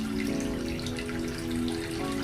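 A nearby waterfall in a Hindi children's cartoon gives a steady, full rush of flowing water that runs unbroken throughout, with faint tonal hums layered beneath.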